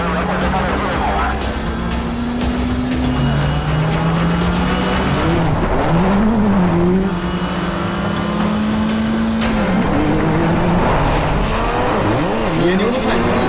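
Race cars tear down a straight at around 200 km/h, engines whining in sustained rising and shifting tones, loud and continuous, with voices talking over the racing.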